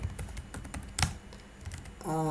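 Rapid clicking of keys on a computer keyboard as code is typed into a script, a steady run of light taps with one sharper stroke, ending in a brief tonal electronic sound.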